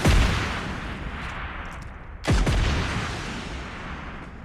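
Distant bombardment in the PUBG Mobile Lite battle game: a heavy boom opens, its rumble fading away, then a second sharp blast lands about two seconds later and rolls off.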